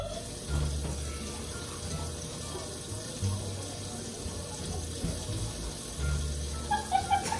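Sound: water running from kitchen sink faucet

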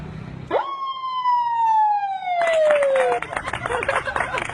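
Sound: man imitating ambulance siren with mouth

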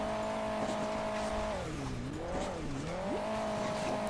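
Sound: motorcycle racing in the video game Hill Climb Racing 2

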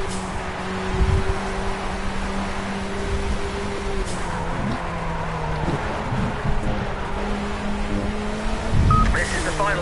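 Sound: Sierra Cosworth race car engine at Spa, from a racing video game

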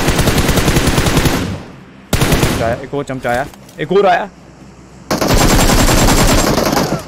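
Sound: gunfire from video game PUBG Mobile

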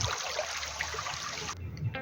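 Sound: mountain stream water flowing

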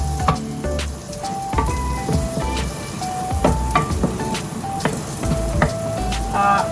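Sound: garlic sizzling while stir-frying in a pan

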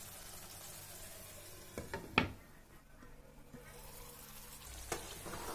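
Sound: zucchini ragout stewing under a lid

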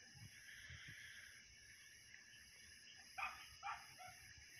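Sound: dogs howling at night

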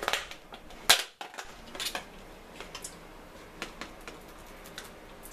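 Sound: knife chopping food into fine pieces

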